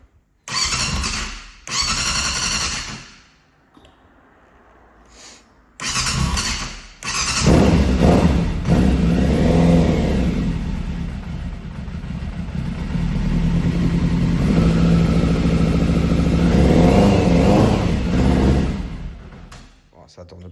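A Yamaha Fazer motorcycle is cranked with the choke on, coughing through several short bursts before catching and running roughly, its engine revving up and settling in an uneven, loud drone for over ten seconds.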